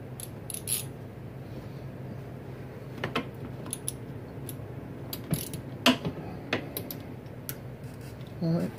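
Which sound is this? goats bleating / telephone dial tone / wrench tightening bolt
wrench tightening bolt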